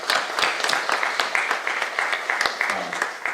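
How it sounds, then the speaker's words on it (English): Audience at a Clifton Forge candidates' forum clapping for the candidates, steady moderate applause from a modest indoor crowd, fairly distant, with no talking over it. "Let's give our candidates a round of applause"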